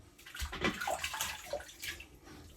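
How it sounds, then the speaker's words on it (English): Water splashes and runs over skin to rinse off alum after a shave, a faint, close, uneven patter of trickles and splashes lasting only a couple of seconds with no voices. "Rinse the alum off."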